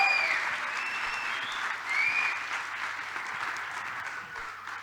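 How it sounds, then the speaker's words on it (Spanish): A church audience applauds steadily, a dense wash of clapping from many hands that carries on evenly throughout, with a few faint whistle-like tones rising above it. "aplaudiríamos más fuerte"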